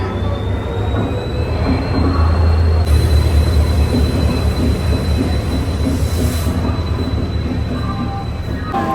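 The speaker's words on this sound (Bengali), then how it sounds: "আর কি ট্রেনটা আসছে।" A train pulls into a station platform at night, its loud steady rumble and rolling rail noise filling the scene, with a thin high wheel squeal running throughout and a heavier surge of rumble partway through.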